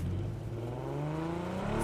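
A car engine in the video game PUBG drones and revs steadily at close range, its pitch rising slightly as it accelerates, with no voices.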